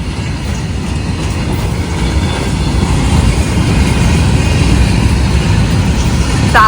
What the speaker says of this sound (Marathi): आणि ट्रेन आलेली आहे मालगाडी आहे